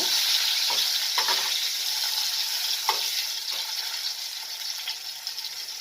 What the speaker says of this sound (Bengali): এরপর আমি আলুটাকে দিয়ে দেব আর ধিমে আছে ধীরে ধীরে ভাজতে ভাজতে